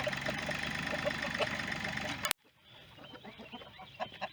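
Hens clucking and calling in a group as they wait to be herded into cages for a move, with an engine-like drone under the first half before the sound drops sharply to quieter, scattered clucks nearby.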